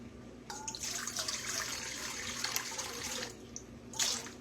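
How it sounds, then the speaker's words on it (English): Cold tap water runs steadily into a jug in a home kitchen while bread dough is being prepared, a continuous close splashing pour lasting a few seconds, swelling again briefly near the end. "I'm going to fill up my jug with some water."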